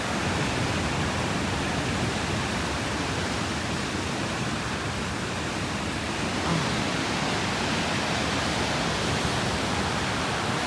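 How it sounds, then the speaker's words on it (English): Large waves on Lake Superior after a storm, a steady, dense roar of surf that stays loud and even throughout, with no distinct individual breakers standing out. "The waves here get huge."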